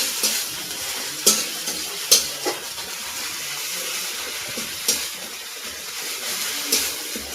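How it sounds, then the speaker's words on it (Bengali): Chilli, ginger and garlic paste stirred in a hot pan for ghugni, a low steady sizzle broken by several sharp clinks and scrapes of the spoon at irregular intervals, close up with no talking. "লঙ্কা আদা আর রসুন বাটা দিয়ে নেড়ে নিচ্ছি"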